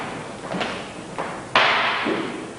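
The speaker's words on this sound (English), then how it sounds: "That's the sound of the stick, and that indicates power." Fighting sticks strike during a Pananandata martial arts drill, giving three sharp cracking hits spaced about half a second apart, with the last the loudest and most ringing, close by with no talk.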